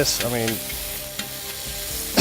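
Blackened flank steak sizzles loudly with peppers and onions in a hot pan, a steady frying hiss with stirring and scraping throughout.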